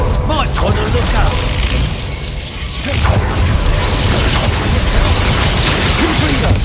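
Repeated magical spell blasts and crashing bursts from combat in the Hogwarts Legacy game, loud and dense, sounding over continuous game audio with brief dips between impacts.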